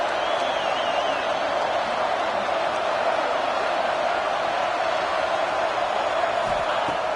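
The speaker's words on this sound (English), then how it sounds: "this home crowd is fired up and ready to make a difference today" Home crowd at a college football game, UCLA versus KSU, a constant distant roar of cheering fans with a broadcast commentator talking over it.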